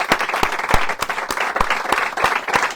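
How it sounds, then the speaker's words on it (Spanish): An audience applauds after a book presentation honoring Cervantes, a steady close burst of many hands clapping with sharp individual claps standing out, nobody talking. "creo que un gran aplauso."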